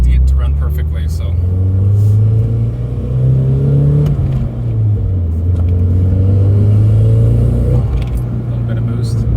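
Nissan Silvia's new engine running lean on its first drive, a loud close low rumble with the note climbing and dipping as the car accelerates and lets off, continuous throughout.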